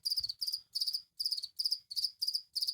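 Crickets chirp inside a gecko enclosure, a regular train of short, bright trill bursts repeating about three times a second, faint and close with no other sound.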